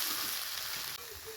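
Potatoes and mushrooms frying in a pan for a mushroom curry give a steady, close sizzle of hot oil, broad and even throughout, with no voices.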